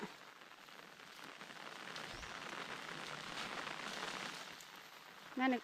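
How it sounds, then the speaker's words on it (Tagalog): Heavy rain pours steadily onto surfaces in a village garden, a dense constant hiss that swells slightly midway, with faint voices beneath it. "Lumakas talaga yung ulan."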